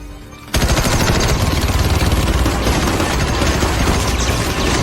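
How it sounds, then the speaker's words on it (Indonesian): In a film, after a brief quiet moment, loud continuous gunfire erupts and keeps going in a rapid, dense barrage until the end. "Mendengar suara tembakan, yang lain buru-buru berlari."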